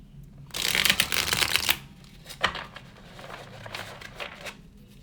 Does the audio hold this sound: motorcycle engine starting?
no